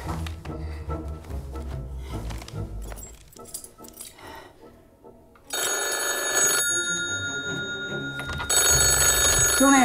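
A hotel house phone rings in bursts of bright bell trills, loud and close, broken by clinks and movement before the ringing resumes louder toward the end.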